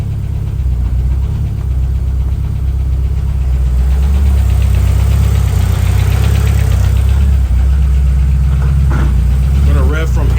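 A turbocharged Honda H22 engine in a CB7 Accord, running rich, idles close by with a steady, rough rumble and a faint ticking, knocking undertone throughout.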